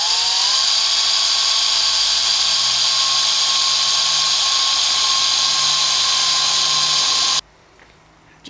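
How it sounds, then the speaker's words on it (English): An electric drill with a cobalt bit bores into a Raleigh bike frame, whining loudly and steadily at high pitch for about seven seconds before stopping abruptly into quiet. "Now I'm using a cobalt bit, so hopefully it will eat through if my drill lasts"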